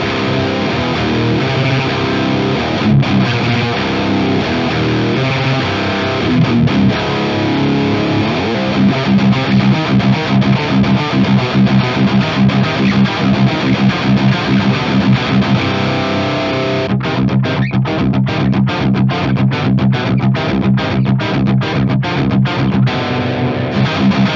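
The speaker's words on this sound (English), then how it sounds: "This is cascading gain stage kind of saturation, and that's what I really like." Heavily saturated electric guitar through a cascading-gain distortion pedal, playing chords and riffs, thick and fuzzy with layered gain, loud and continuous, with a choppier rhythmic section near the end.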